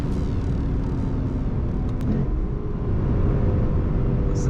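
A 2024 Lexus RC F Platinum's 5.0 V8 engine rumbles steadily through a laggy 8-speed downshift, a continuous low drone that swells slightly toward the end, heard from inside the car.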